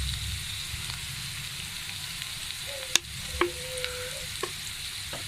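Vegetables with chili sauce and spices sizzle steadily in a hot pan, with a few clinks and scrapes of a spoon stirring them close by.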